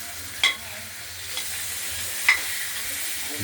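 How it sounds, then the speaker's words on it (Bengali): A rohu fish head fries in hot oil with a steady sizzling hiss, and a few sharp scrapes of stirring cut through it. "খুব ভালোভাবেই মাথাটিকে আমরা ভেজে নেব।"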